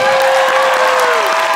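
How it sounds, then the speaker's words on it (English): An audience at a furry convention dance competition applauds loudly and steadily. A sustained tone sounds under the clapping. "Can I get a warm round of applause for Matty?"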